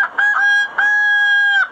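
A magpie imitates a rooster's crow, giving two loud, close, sustained crowing calls, each with a brief rising start.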